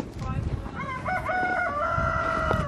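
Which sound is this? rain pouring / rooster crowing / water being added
rooster crowing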